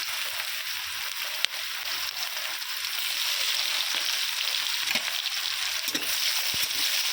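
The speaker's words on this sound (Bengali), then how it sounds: "পেঁয়াজটাকে গোল্ডেন করে ভেজে নেব" Chopped onions fry in the oil left from frying snakehead fish, making a continuous, close hiss and crackle that swells slightly partway through, with a sharp utensil tap near the start.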